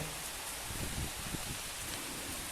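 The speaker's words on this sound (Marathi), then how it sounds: "पाऊससुद्धा जोरात पडत आहे" Steady heavy rain from a thunderstorm in Sangli district hisses continuously, dense and even, with a faint low rumble underneath and no voices.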